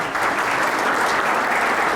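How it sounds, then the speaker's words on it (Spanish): A conference audience at a satellite-communications lecture gives dense, sustained applause, loud and even throughout with no voices standing out. "Aplausos, por favor,"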